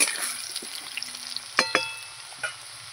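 Potatoes frying in a pan, cooked until reddish for a cabbage and katla fish head dish, give a steady close sizzle broken by two sharp utensil clinks near the middle and another later.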